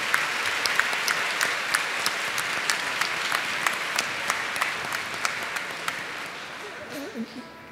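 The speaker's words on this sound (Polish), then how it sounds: "Serdeczne oklaski." An audience at a Catholic church gathering applauds warmly, dense sustained clapping from a crowd that fades out toward the end.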